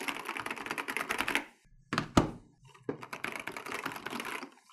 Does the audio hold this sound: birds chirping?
no